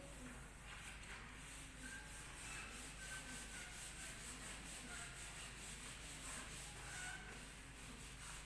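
A duster rubs writing off a classroom board in quick back-and-forth scrubbing strokes, a faint, continuous swishing under a steady background hiss.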